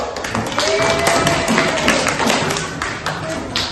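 Classroom of students clapping hands together, a fairly loud, brisk patter of many claps and taps with some voices mixed in, continuing steadily throughout.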